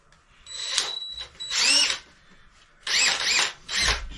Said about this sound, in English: This drill is starting to get a little bit tired